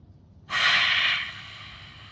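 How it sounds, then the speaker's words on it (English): One deep, breathy inhale through the nose during a mindful breathing exercise, rising suddenly from near silence, holding for under a second, then fading softly, close and alone. "Inhale."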